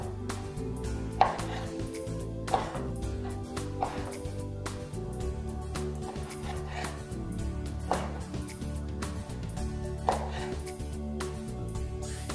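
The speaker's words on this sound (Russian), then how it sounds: "Мы его измельчаем и также нарезаем на небольшие кусочки" A knife chops prunes steadily on a cutting board, repeated knocks at an even pace, close and fairly quiet over faint background music.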